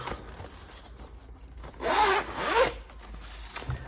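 A pencil case zipper is pulled open in two quick, close, raspy runs in the middle, with quiet handling noises around it.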